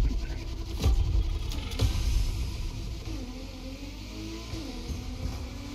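Ford GT racing in The Crew Motorfest, a car engine rumbling steadily with a couple of sharp revving surges early on, then settling into a continuous driving drone.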